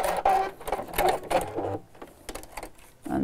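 A sewing machine runs in short bursts, stitching backwards and forwards across fabric for a pin cushion. The quick mechanical whirring is close and moderately quiet, with brief pauses between passes.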